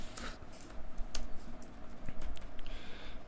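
Code is typed on a computer keyboard in quick, uneven bursts of crisp key clicks and taps, close and moderately loud, with no talking.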